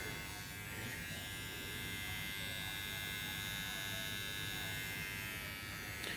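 Surker SK 7206 cordless electric hair trimmers running with a steady, even high-pitched buzz and hum, constant in level throughout and heard alone at close range.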